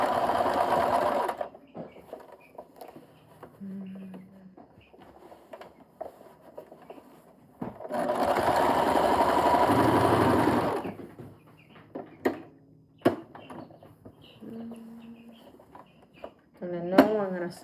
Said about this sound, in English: I'm going to sew it this way because I just want to do it this way